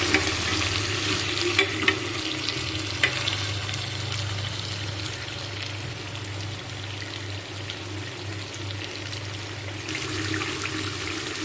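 Beef tripe sautés in a pan with a steady, moderately loud sizzle and frying hiss, broken by occasional stirring scrapes, with no one talking.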